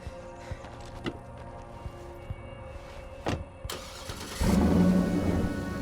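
A car in State of Decay 2 being started up, with a door clunk and clicks before the engine catches and settles into a steady, moderately loud idle.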